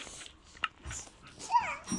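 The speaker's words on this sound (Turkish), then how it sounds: "Kurt var." A wolf in the Minecraft video game whimpers with a short, rising and falling whine among soft game clicks and thumps, fairly quiet overall.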